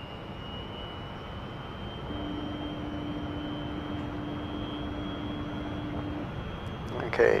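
Steady whine and roar of a Su-27 jet engine in the DCS flight simulator, a constant drone with a sustained tone partway through and a brief louder burst at the end, with no talk over it.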